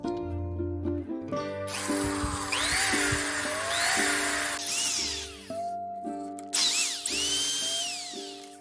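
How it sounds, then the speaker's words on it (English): A bearing cap bore on a vehicle axle is honed with rotating sandpaper tape, giving a close, loud whirring tool sound. The pitch rises and falls as the tool spins up and slows, with several starts and stops. "I'll put sandpaper tape into that slot and then start rolling it around until I get the diameter that I want"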